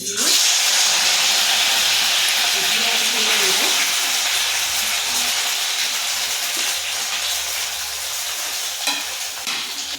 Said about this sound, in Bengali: এবার আমি ছানাটা এই যে গরম ঘিয়ে সঙ্গে দিয়ে দিচ্ছি